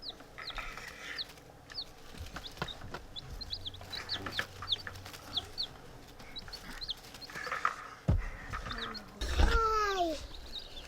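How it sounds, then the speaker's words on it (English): Baby chicks in a brooder under a heating plate chirp with many high, quick peeps that repeat and overlap, while people murmur quietly in the background. "These are our little chicks."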